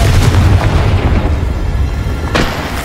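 A Confringo fire spell blasts in the Hogwarts Legacy video game, giving a loud, booming burst with deep rumbling low end that sustains, then a second sharp impact near the end.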